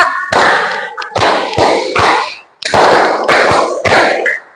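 A group in a classroom claps in rhythmic patterns, loud and close, with bursts of sharp hand claps in quick clusters separated by brief pauses, repeated across two phrases.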